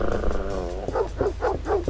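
A dog in a Neighbours from Hell remake mod gives a drawn-out growling whine, then four quick loud barks in a steady rhythm, up close with no voices.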